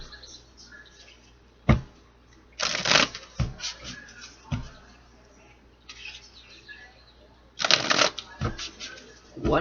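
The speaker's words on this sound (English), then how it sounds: "One more shuffle for Virgo." Tarot cards being shuffled in several quick riffling bursts, close up, with soft pauses and faint background noise between them.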